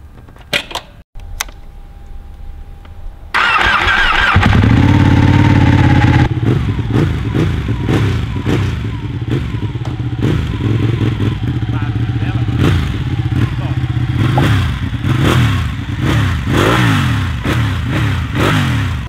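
Ducati Panigale 1199 sport motorcycle engine cranks and catches, then settles into a loud, close idle with repeated throttle blips and revs rising and falling, with brief mechanical clatter at the start.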